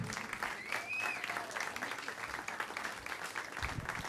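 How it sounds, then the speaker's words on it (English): At a comedy club, the crowd applauds after a stand-up set, steady rattling clapping throughout, somewhat distant and moderate, with a whistle and cheering voices mixed in. "Come on, next round of applause for Melvin."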